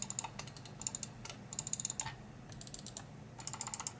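Quick, light clicking comes in small clusters, sharp and fairly faint against a soft background hiss.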